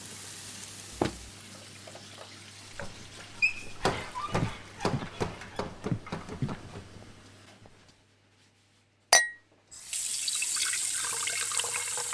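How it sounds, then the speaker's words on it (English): A dirty coffee mug is tossed into a soapy kitchen sink, giving a run of close watery splashes and clatters that fade to near silence, then one sharp knock followed by a steady running-water hiss. "She tossed a dirty coffee mug into the soapy sink."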